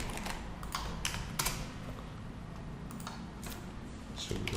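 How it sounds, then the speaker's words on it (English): Someone types on a computer keyboard, producing a loose run of close, crisp key clicks with a few heavier taps and uneven pauses between keystrokes. "So let's type it."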